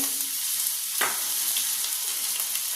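Ginger garlic paste frying in coconut oil in a pan gives a steady, close, bright sizzle throughout, with one brief sharper spatter or stir near the middle.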